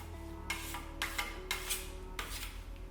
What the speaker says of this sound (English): I can put the material on the side of the trowel and move in this way